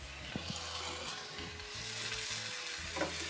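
Chow mei fun ingredients being stirred in a hot pan, with a steady broadband sizzle of frying and occasional scraping strokes of the utensil, close and continuous throughout.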